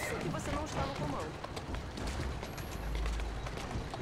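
Horse hooves clip-clop at a quick pace as a carriage rattles along in Assassin's Creed Syndicate, a continuous rumbling gallop with someone talking over it.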